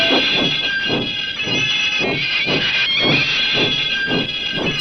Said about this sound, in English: The train slowed to a crawl, but Thomas's wheels kept spinning.